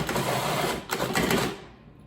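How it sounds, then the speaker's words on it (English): A food processor blending banana bread muffin batter with oats whirs loudly and steadily up close, a dense motor grind that briefly stutters, then winds down at the end. "the food processor helps kind of grind up the oats too a little bit more"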